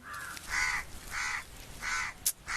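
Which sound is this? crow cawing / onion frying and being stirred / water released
crow cawing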